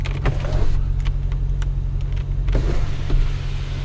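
A 2022 Jaguar F-Pace SVR power sunroof slides open with a steady low electric motor whine and hum, close and continuous, with faint clicks and creaks along the way.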